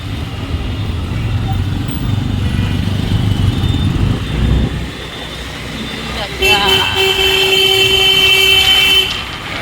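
Busy street traffic passes nearby with rumbling engines of cars, trucks and motorbikes, then a long, loud vehicle horn blares for a few seconds. Voices are faintly present within the din.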